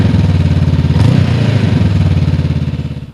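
A Honda NX500 motorcycle's 471cc engine revs close by, loud and throbbing with a rapid pulsing beat, climbing briefly before settling and trailing off.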